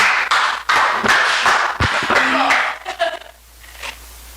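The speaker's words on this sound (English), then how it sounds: "A round of applause for her." Applause in a mathematics classroom, a crowd of students clapping in sharp, irregular bursts that are loud and close at first and then fade to a few scattered claps, with voices mixed in.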